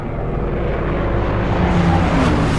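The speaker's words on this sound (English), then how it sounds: "At mid-afternoon, a second wave of bombers arrives from the Hiryu." Japanese WWII bombers from the aircraft carrier Hiryu approach with a loud, sustained droning engine roar that grows slightly and holds steady, with no voices.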